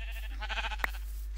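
A Minecraft sheep gives a short wavering bleat, clear and close over a steady low hum, with a couple of faint clicks after it.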